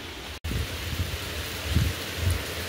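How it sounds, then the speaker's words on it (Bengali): Steady rain falls outdoors on a windy day, a continuous soft hiss with low rumbling gusts, broken by one brief dropout near the start; no voices. "বাইরে হচ্ছে বৃষ্টি"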